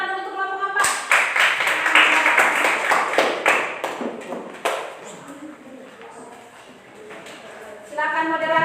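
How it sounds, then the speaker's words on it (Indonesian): Students in a classroom clap for group 4, a short burst of fairly loud close applause that thins into scattered claps. A voice speaks at the start and again at the end. "tepuk tangan untuk kelompok 4"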